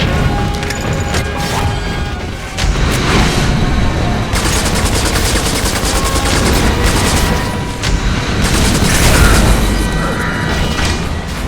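Gunfire and explosive blasts from the sci-fi shooter game Section 8: Prejudice, dense and continuous with loud bursts and mechanical clatter, a heavier boom rising near the end.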